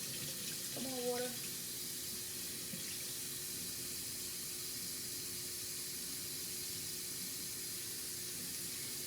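Warm water runs steadily from a tap into a sink while a face is being washed with a washcloth, a constant close hiss throughout, with a brief soft voice near the start.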